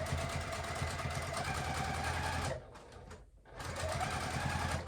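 A sewing machine stitches fabric for a pint cozy in a steady, loud mechanical run that stops for about a second before starting up again.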